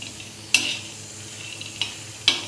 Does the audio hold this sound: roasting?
yes